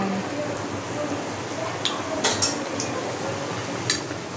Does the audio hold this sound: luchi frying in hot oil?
yes